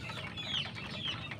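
A chicken kept for about five years clucks in a few short, nasal bursts, close and fairly quiet, with a brief higher-pitched squawk in the middle and a low rumble of background noise beneath.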